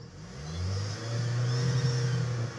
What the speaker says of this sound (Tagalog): I-rev natin.